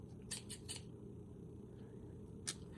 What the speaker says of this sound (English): I'm going to have to perform surgery with a pair of scissors